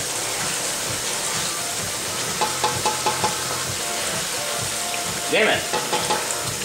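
Hot chicken with cayenne pepper stir-frying in a pan, a loud steady sizzle and hiss with repeated scraping stirs, and a man's brief muttered remark partway through.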